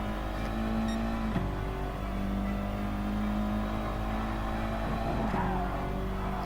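A car in the Gran Turismo Sport racing game drones steadily at high speed, its engine pitch holding level and then dropping sharply with gear changes and braking near a chicane, loud and continuous.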